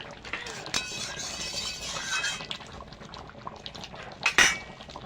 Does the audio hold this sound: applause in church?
no